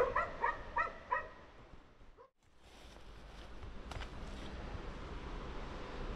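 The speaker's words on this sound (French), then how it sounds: "Ah mais non, c'est les chiens." Hunting dogs bark in a series of four sharp, fairly close yips and woofs. A short silence follows, then steady outdoor wind noise on a mountain trail above Banca, ridden on an electric mountain bike.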